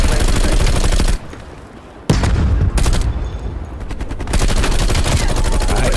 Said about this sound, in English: Bullfrog submachine gun